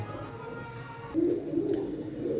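Pigeons in a loft, including a red Shirazi female, coo in low, throaty repeated phrases. The cooing starts partway through, close by over a faint background hum, with a little quiet talk.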